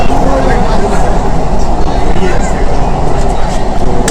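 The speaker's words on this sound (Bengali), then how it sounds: "খুব দ্রুত গতির সঙ্গে কিন্তু ট্রেন এগিয়ে যাচ্ছে" A fast-moving metro train on India's first under-river line beneath the Ganga rumbles steadily with a dense, continuous low roar and rattling throughout, loud and close, without pause.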